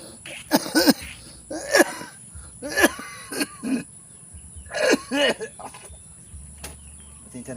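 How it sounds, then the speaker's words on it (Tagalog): A person coughs repeatedly nearby, a series of harsh, raspy coughs in clusters with short pauses between them. "kasi inuubo ko talaga ako"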